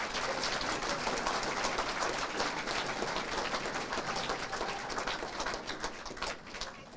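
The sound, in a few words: audience applause for hall of fame inductees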